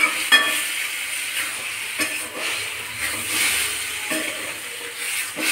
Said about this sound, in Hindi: ये देखिए टमाटर डाल दिया पूरा। अब इसको भूजेंगे